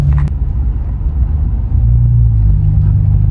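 Car driving slowly through a snowstorm, heard from inside as a loud, steady low engine and road rumble, close and continuous, with no talk.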